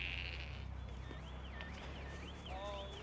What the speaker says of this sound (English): we also have sheep.